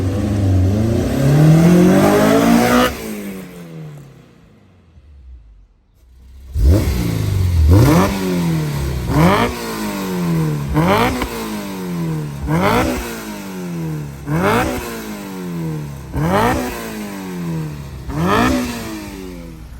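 Honda S2000 fitted with a Ballade Sports Type S dual exhaust, revving hard near the microphone: a long rising rev, a short silence, then a series of sharp repeated blips climbing and falling in quick rhythm.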